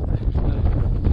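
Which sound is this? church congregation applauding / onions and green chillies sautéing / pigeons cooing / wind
wind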